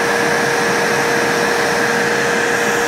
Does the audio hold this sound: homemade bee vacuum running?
yes